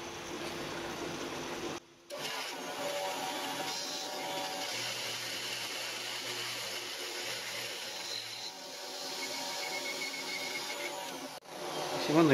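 A metal lathe bores out the spindle bore of a homemade milling machine, a continuous whirring cutting drone with a brief break and a later dip, steady and fairly close.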